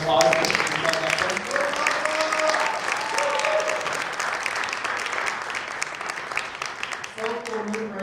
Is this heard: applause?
yes